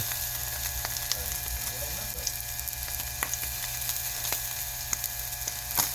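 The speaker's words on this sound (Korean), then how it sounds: "옛날에는 숯불에 구웠는데 지금은 뭐 프라이팬에 그냥 구지요" Small fish fry in a frying pan with a close, continuous sizzle broken by sharp oil pops and crackles at irregular intervals.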